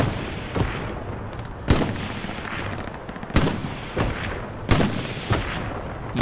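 Tank cannon firing in the WWII shooter Hell Let Loose on the Kursk map, a series of sharp booming blasts at irregular intervals over a dense battlefield din of distant gunfire.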